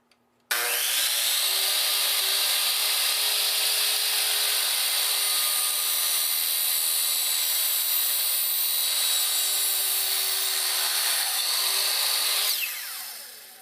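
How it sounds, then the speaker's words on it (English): A miter saw or hacksaw cuts a metal stabilizer rod for a Blum Aventos HS cabinet lift system to length, a steady, loud, continuous grinding cut lasting about twelve seconds before trailing off, with no talking. "Use a miter saw or a hacksaw to cut the rod to length."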